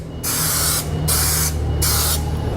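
Bullet Bond tactile adhesive sprayed in three separate bursts, each a steady broad hiss lasting about half a second, close and loud, with no talk.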